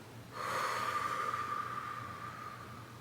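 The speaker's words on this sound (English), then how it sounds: "let's inhale and exhale together" A long, deep breath is drawn and let out close to the microphone as a steady airy rush that swells quickly and then slowly fades over a few seconds, with no talk.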